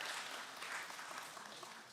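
Audience applause at a DevOpsDays tech conference in Amsterdam, a brief, fairly quiet patter of many hands clapping, steady and diffuse without voices.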